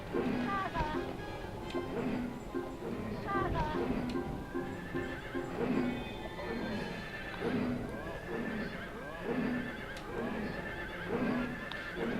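A horse in the video game Dream Story neighs and whinnies over and over, while hooves clip-clop in a steady rhythm throughout.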